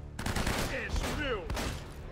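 A quick burst of rapid gunfire in the video game Uncharted: Drake's Fortune crackles over a couple of seconds, loud and dense, with faint whistling streaks between the shots.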